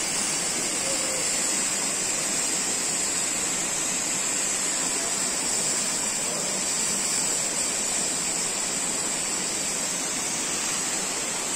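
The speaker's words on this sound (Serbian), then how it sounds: "kupaš se ispod vodopada" Steady, loud rush of the Ilomska waterfall pouring over rocks into a cold pool in a forested gorge, a dense, unbroken roar that holds evenly throughout without voices.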